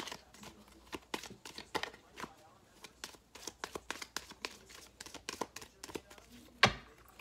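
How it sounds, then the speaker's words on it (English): Tarot cards shuffled by hand during a reading, giving a quick run of soft papery crinkles and riffling taps, close and fairly quiet, ending in one sharper snap near the close. "Shuffle up those cards."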